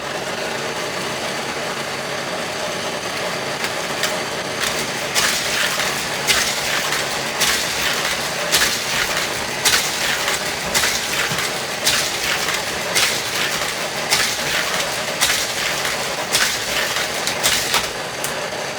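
A motorized Mack Track Challenge toy race track from the 2009 Cars Race-O-Rama playset runs at its 3-speed setting, giving a steady mechanical whir with periodic rattling clacks as cars pass, close and continuous.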